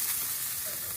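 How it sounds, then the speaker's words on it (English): Black treacle bacon sizzles in a pan while cooking for a Wagyu burger, giving a steady, close, even hiss of frying fat with no speech. "the bacon is well on its way to being cooked"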